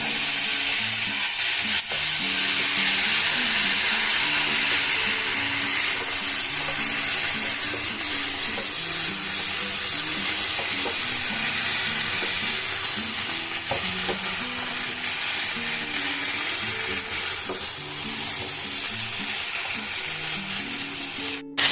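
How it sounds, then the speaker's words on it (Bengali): Chickpea curry, made with split chickpeas, fries on high flame in a pan, giving a steady loud sizzle with occasional stirring scrapes throughout, and no voices over it. "পাঁচ মিনিট এইভাবে আমি ভাজবো হাই ফ্লেমে"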